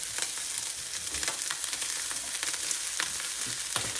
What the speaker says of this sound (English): I'm gonna do a footage of while I'm stirring the rice, just so you can see what it looks like.